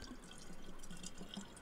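Water pours from a hand pump in the DayZ survival game, a steady splashing gush with light dripping, soft and continuous with no voices.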